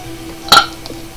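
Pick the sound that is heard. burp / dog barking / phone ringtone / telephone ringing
burp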